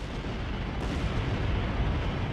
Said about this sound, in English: more small explosions are going off within Nemo's ship